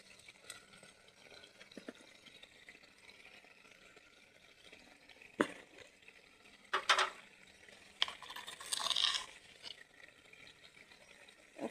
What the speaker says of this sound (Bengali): এটা ভালো মতন মিক্স করে ফ্রাই করে নিতে হবে।